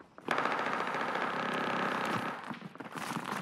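Rapid automatic gunfire in the Call of Duty Warzone Rebirth map, a loud, sustained burst of closely spaced shots that breaks into scattered shots and rattles.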